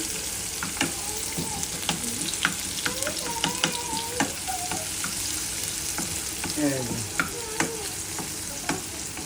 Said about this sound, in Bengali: আমরা এখন এই যে দেখুন পেঁয়াজ ভুনা করছি